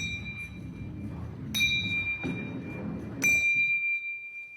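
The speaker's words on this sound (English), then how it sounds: "we should hear the bells ringing at equal intervals in time." A ball rolls down a gravity ramp and strikes small bells, giving three bright ringing dings at roughly even intervals over a soft continuous rolling rumble.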